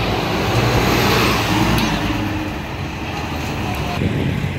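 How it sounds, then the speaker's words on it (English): A 2007 Orion 7 diesel bus on the MTA 7 shuttle rumbles nearby with a loud, steady low engine drone and road noise, swelling slightly then settling over a few seconds. "Yo, they put the diesel out on the 7 shuttle."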